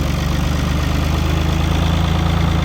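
A motorcycle engine runs at a steady idle close by in a village garden near Antalya, a loud, even low throb with a rapid pulsing beat and no other sounds.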